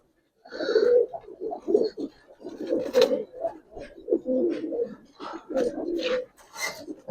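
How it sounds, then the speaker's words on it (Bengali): Giribaz pigeons cooing in a rhythmic series of soft, throaty calls, close by and fairly clear, with occasional faint background noises between the coos. "কবুতর মার্শাল্লাহ"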